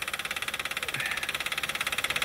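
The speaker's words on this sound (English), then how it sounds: "This engine is ticking louder than its original." A used 2.7 engine idles with a steady, rapid ticking, an even mechanical tapping repeating throughout over a constant hum, close to the microphone.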